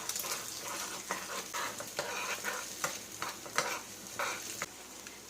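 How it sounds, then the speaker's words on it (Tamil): Eggs seasoned with pepper and salt are scrambled in a frying pan, giving a steady sizzle broken by repeated sharp scrapes and stirring clicks, close and fairly loud, with no voices. "நல்லா ஸ்க்ராம்பிள் பண்ணிடலாம்."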